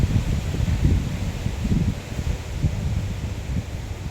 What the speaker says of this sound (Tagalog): Tingnan hangin guys, oh.